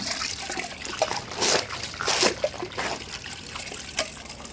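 Water is poured over a fish, making short, close trickling and splashing bursts that come and go against a quiet background.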